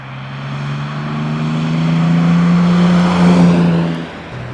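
Aston Martin DB6 engine while driving, a steady, loud drone that builds gradually under load as the older car pulls along, then eases off at the end, with no talk over it.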